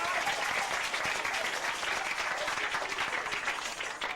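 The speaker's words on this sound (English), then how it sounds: "Big round of applause, folks." Studio audience applause at a 1989 bingo game show, a loud sustained wash of clapping that runs unbroken throughout with faint voices underneath.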